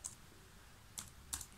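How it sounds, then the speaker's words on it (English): Four sharp keystrokes typed on a computer keyboard to enter a ping command, spaced irregularly with quiet gaps between, close and clear with no talking. "So you type in ping, P-I-N-G."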